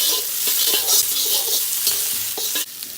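Vegetables fry in a hot pan for a tofu and sweet potato noodle dish, a loud steady sizzle and crackle with repeated stirring scrapes throughout.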